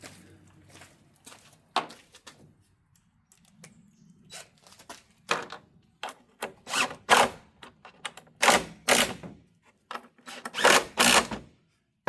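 A power gun tightens bolts on a car's coolant part in short, repeated bursts of whirring, starting sparse and quiet and growing louder and more frequent.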